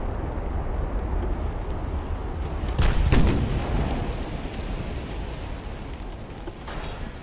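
Naval gunfire rumbles in the warship battle game Ultimate Admiral: Dreadnoughts. A 13-inch gun fires with one heavy boom around the middle, set in a continuous low roar of battle noise.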